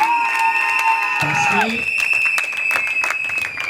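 Guests at a civil wedding applaud and cheer as a spoken line trails off, with clapping and whoops rising in the room while a sustained tone fades out early.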